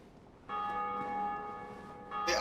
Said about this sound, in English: I know people are here and hear the ding-dong bell.